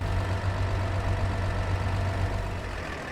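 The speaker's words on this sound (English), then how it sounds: "Turn that engine over." A tractor engine in the Farming Simulator 25 video game runs at a low, steady idle, a continuous deep hum that fades slightly near the end, with no speech.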